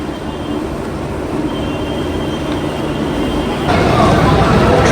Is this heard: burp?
no